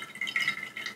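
Milky water pours into a small container being filled to the top, a brief close-up trickle with light dripping splashes for about a second.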